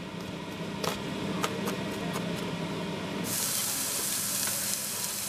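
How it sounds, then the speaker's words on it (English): Finely chopped onion and garlic frying in olive oil in a pan, a steady close sizzle with a few sharp crackles early on, swelling into a louder, brighter hiss partway through. "Just slightly fry them. You don't want to burn it, just caramelize it."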